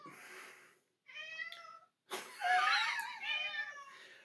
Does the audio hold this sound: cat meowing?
yes